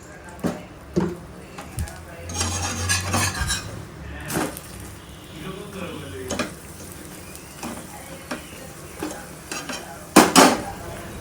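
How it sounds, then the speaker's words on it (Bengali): Potato-stuffed paratha fries in oil in a pan, a soft sizzle under clinks and scrapes of a spatula pressing it down, with a few sharper metallic knocks and someone talking intermittently. "তেল দিয়ে এইভাবে সুন্দর করে চেপে চেপে ভেজে নেব।"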